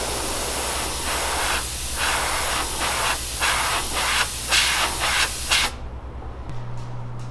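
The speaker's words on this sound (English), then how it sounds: "Just gonna put it in the airbrush and see what happens." An airbrush sprays violet-tinted clear coat onto a handmade topwater fishing lure, a loud close hiss pulsing in a few bursts over a low hum before cutting off into quiet.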